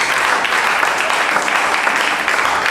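A church congregation at a Sunday service in Lomé, Togo, breaks into dense, loud, sustained applause that fills the room without pause.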